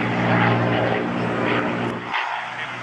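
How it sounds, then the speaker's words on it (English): Republic P-47 Thunderbolt fighter, built in 1945, at Bournemouth Airshow 2019, its radial piston engine droning loudly and steadily with a pulsing propeller tone, fairly close. "Beautiful noise coming from the most numerous American fighter ever produced, known as the Jug"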